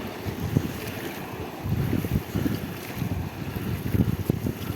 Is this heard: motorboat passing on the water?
yes